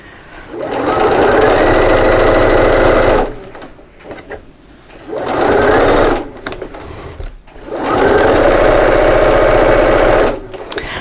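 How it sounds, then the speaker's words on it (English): A sewing machine runs a long straight seam along a lining at a longer stitch length, three sustained bursts of steady mechanical whirring with short pauses between them, close and loud. "It's just a lovely straight bit of stitching."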